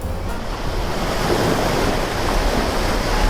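Sea waves washing onto the beach at Cha-am, Thailand, on an evening shore: a steady, close, continuous surf roar with wind buffeting the microphone and no voices.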